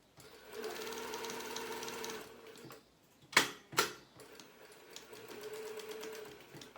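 A sewing machine runs a slow, steady stitch along a pillowcase seam, making a close, even whir in two long stretches separated by a short pause with a couple of sharp mechanical clacks.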